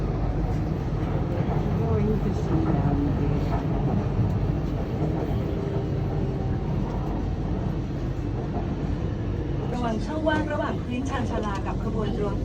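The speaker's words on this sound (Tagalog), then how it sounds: "Train kami," A Bangkok train rumbles steadily with a continuous low roar from inside the carriage or on the platform, and a few faint tonal chimes near the end.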